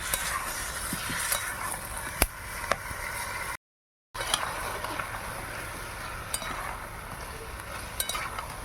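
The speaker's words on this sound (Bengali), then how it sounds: "এবার ভিজে এবার ভেজে রাখা আলু আর চিকেন দিয়ে দিচ্ছি এবার ভালো করে কষবো" Chicken and potatoes stir-fry in a pan, giving a continuous sizzle with a spatula scraping and clinking against the metal at irregular intervals, close and steady with a brief gap partway through.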